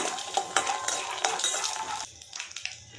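A cup of peanuts being dry-roasted in a pan, stirred with a metal spoon that scrapes and clinks against the pan in quick repeated strokes, close, with a faint crackle beneath and no voices.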